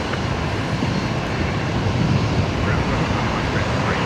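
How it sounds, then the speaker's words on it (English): A Jetstar airliner taxis past at Brisbane Airport at night, its jet engines producing a loud, steady broadband roar that holds constant throughout, with wind buffeting the microphone. "Matt there has the Jetstar 888 service taxiing by"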